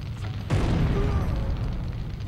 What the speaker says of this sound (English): Take out my grenade launcher.